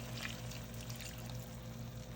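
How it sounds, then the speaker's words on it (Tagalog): A small amount of water is poured into a pan of adobong lechon (braised pork) as it cooks, a soft, steady, faint pouring under a low background hum. "lagyan na natin siya ng tubig."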